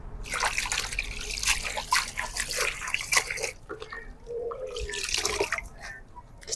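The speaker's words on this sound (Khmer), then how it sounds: "អញ្ចឹងលាងតែមួយទឹកនេះទៀតបានស្អាតតែម្ដង ជីរបស់យើងក៏លាងបានស្អាតដែរ" Vegetables and herbs for a Khmer green papaya salad being rinsed by hand in a basin of water, with close splashing, dripping and trickling sounds in irregular bursts and a brief quieter pause midway.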